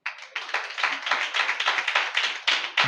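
A church congregation at a Holy Communion service claps in a rapid, steady rhythm, many hands together in bright repeated bursts, close and continuous.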